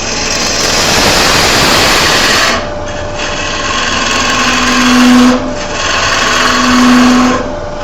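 Wood lathe hollowing a turning held in a chuck, an up-close, loud rough grinding and rattling vibration that surges and dips in bursts, with brief higher tonal whines, and no talking.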